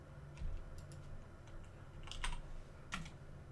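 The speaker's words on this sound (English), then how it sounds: "oh, did I type it wrong?" A computer keyboard being typed on at a Linux desktop while entering a browser name: sparse, light key clicks in small clusters, fairly quiet over a steady low room hum.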